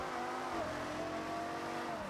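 Engine of a car in Forza Horizon drones with a wavering pitch during a spin-out, a continuous revving hum with faint tyre noise and no talk over it.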